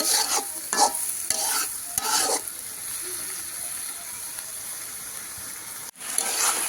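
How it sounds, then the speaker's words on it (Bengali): Eggplant sizzles steadily in a hot pan as a spatula scrapes through it in several quick strokes, then the frying hiss continues alone. "তারপর একটু নাড়াচাড়া করে রেখে দিয়ে ডেকে দিব"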